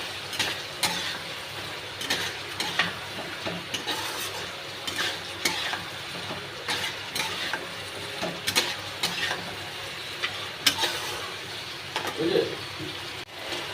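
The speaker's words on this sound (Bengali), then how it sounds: "এবার আমি সানরাইসের গরম মশলাটা উপরে দিয়ে দেবো, দিয়ে নেড়ে নেব।" A spoon stirs mutton curry in a pot after Sunrise garam masala goes in, giving repeated close scraping clicks and knocks over a soft steady sizzle, with irregular rhythm throughout.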